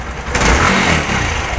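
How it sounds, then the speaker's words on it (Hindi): A Suzuki GD 110s motorcycle engine running at home after a tune-up, a loud, close, rough engine note that swells briefly in the short burst. "तो ये अब इनकी ये बाइक जो है स्टार्ट हो चुकी है।"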